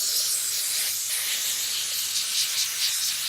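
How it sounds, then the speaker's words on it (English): A continuous pressurized spray of carb cleaner hisses from an aerosol can, steady and close for the whole stretch with small fluctuations. "So they said using this and just spray inside"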